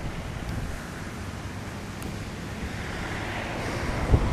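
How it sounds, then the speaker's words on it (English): A radio-controlled Seaview model submarine, a converted Concept-2 hull, blows its ballast tank with a low-pressure blower while surfacing on open water: a steady, rushing hiss of air and churning water that swells slightly toward the end, with no talk. "Blowing the ballast tank."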